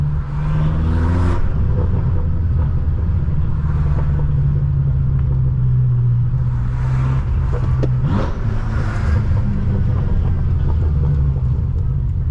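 BMW M6 fitted with a loud aftermarket exhaust, idling with a deep, steady rumble and a few short rising revs, sustained and close throughout.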